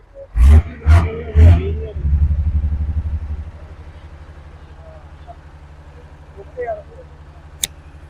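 A Land Rover Defender engine gives three sharp, loud revs close by, then settles into a steady, heavy rumble that gradually fades to a quieter idle.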